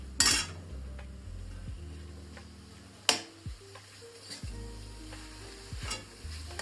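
Chicken marinated for stew is stirred in a pan with onion and ginger, making a quiet, continuous sizzle. Sharp clanks of a utensil against the pan punctuate it at irregular intervals, and short scraping strokes fill the gaps.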